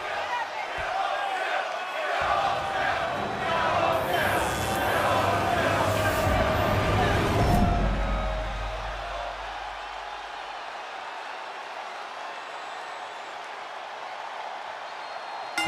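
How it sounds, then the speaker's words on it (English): A loud arena crowd in a WWE 2K24 wrestling video game roars and cheers with a burst of noise in the middle, then fades to a softer murmur. "And just listen to that crowd."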